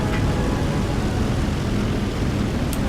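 A Mitsubishi A7M1 (NK9H) propeller fighter in War Thunder drones at high power, its aircraft engine giving a loud, unbroken, rumbling roar throughout with no voices over it.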